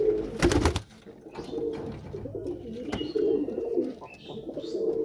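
Domestic pigeons coo nearby in repeated low, burbling phrases, opening with a brief loud rustling burst, then continuing steadily.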